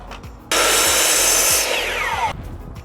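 A power saw trims the end of a wooden board, a loud, close whine of the blade biting through the wood for about two seconds, then spinning down as the cut ends.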